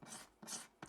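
Sandpaper on a sanding block levels a filled repair on an Ovation guitar, three close rasping strokes in a steady back-and-forth rhythm with brief pauses between.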